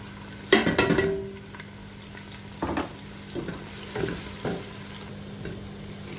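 Chopped onion dropped into hot oil with cloves, bay leaf, cardamom and star anise, giving a sudden burst of sizzling followed by softer crackling and a few stirring scrapes near the pan, with no voices.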